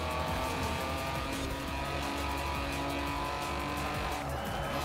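A Mini race car engine roars steadily in the video game Forza Horizon 4, holding a loud, continuous drone with some tire noise, no speech.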